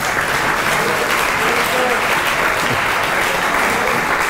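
A crowd applauds for Guantánamo at a Cuban church report meeting, dense and steady clapping filling the room at full volume for the whole stretch, with no voice over it.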